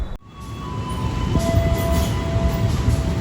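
The Logawa train on the Jember–Purwokerto route pulls into platform one of an Indonesian station, a steady rolling rumble of wagons with a faint high wheel squeal held underneath, close and continuous throughout.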